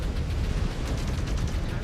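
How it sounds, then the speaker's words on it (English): A mech's reactor breach explosion in the MechWarrior Clans Smoke Jaguar campaign, a loud, sustained deep rumbling blast with rolling low-end booms throughout, near and dense. "Reactor breach. Explosion."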